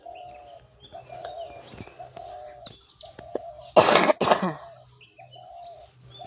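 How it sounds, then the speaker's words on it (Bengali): A person coughs in a short, harsh burst of two or three close, loud coughs in an outdoor setting, with birds chirping and calling faintly throughout. "তো এত কাশি কি বলবো।"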